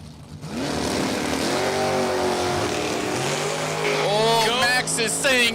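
Drag racing engine roaring down a track at a big-money Sunday bracket race, loud and sustained with rising revs and a faint tire squeal, under an announcer's voice.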